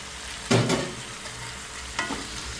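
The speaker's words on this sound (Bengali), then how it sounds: "ভালো করে এটাকে কষিয়ে নিতে হবে" Fried potatoes with Kashmiri chilli powder are stir-fried in oil in a pan, with two distinct stirring scrapes over a low steady sizzle.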